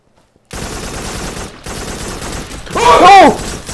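Rapid gunfire from a weapon in the virtual reality shooter Farpoint on PSVR: a sustained loud burst of shots that swells near the end, with no talking.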